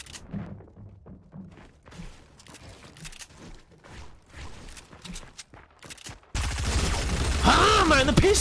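Pistol gunfire in the Fortnite Battle Royale video game on Xbox: a few scattered shots and thuds come first, then a sudden loud, dense burst of firing takes over for the final seconds.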